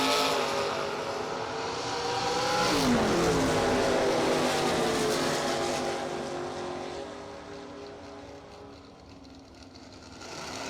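A 1969 Camaro drag racing at the World Street Nationals, with a loud, steady engine roar that rises and then swoops downward in pitch as it blasts past, before fading slowly into a distant drone.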